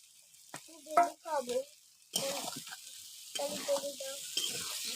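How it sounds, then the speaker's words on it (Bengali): Onion and spice masala for a soybean and egg curry sautés in a pan with a quiet sizzle, while a voice speaks over it during the first half and a louder frying hiss takes over afterward. "ভালো করে কষে নিচ্ছি দিয়ে দেবো টমেটো কুচিগুলো"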